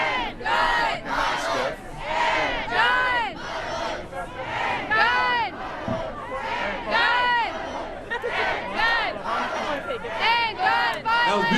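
A large crowd at a rally against gun violence outside the Supreme Court shouts short words in rhythmic call-and-response bursts, loud group voices repeating in regular alternation with brief gaps between them.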